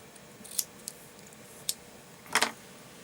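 Small scissors snip cotton wick material for a Kayfun rebuildable atomizer, a few crisp separate clicks close by, ending in a double snip.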